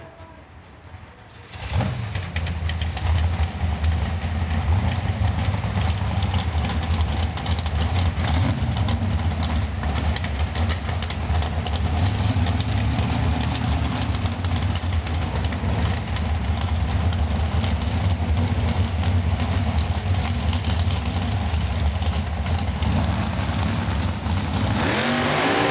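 Drag racing dragsters idle at the start of a Sunday main event, a deep loud rumbling engine drone that kicks in after a quiet opening and holds steady with slight rises in pitch.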